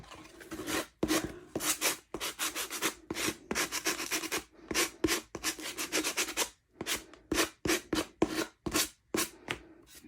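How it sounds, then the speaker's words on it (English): Hand sanding with sandpaper on a collage piece, a rapid series of rough, rasping back-and-forth strokes close up, in irregular bursts with brief pauses, no talk. "I think I'm going to grab some sandpaper real quick."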